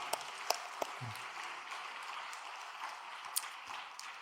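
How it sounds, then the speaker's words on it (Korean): A seated audience at a church training session claps in thanks for a revered elder, a soft, fairly distant spread of many hands with a few sharper claps poking through. "우리 대모님을 위해서 감사의 박수 한번 보내드리겠습니다."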